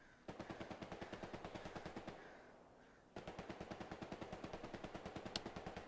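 Rapid, evenly spaced bursts of automatic gunfire in the World War II shooter Hell Let Loose during an 18-versus-18 tournament match, one long string, a short lull, then another sustained burst, moderately distant.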